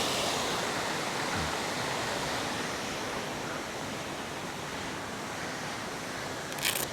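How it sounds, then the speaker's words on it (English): A waterfall pours beside a muddy homeless campsite, a steady, full rushing hiss that holds constant throughout with no voices over it. "There's a waterfall right there."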